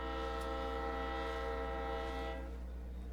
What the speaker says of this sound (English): our potash train is rolling through Kickapoo Yard